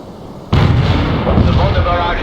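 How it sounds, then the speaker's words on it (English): A mortar barrage in the real-time strategy video game World in Conflict, a sudden heavy blast followed by sustained rumbling explosions and debris, loud and close. "The mortar barrage hits the enemy."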